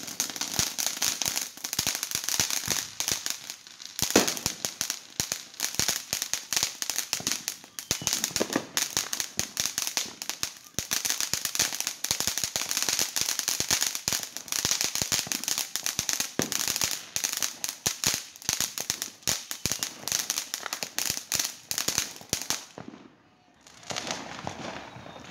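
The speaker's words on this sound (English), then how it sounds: "We got fireworks going off everywhere." Firecrackers and fireworks crackle and pop almost nonstop around a neighborhood on the Fourth of July, a dense, loud barrage of sharp bangs that briefly thins near the end.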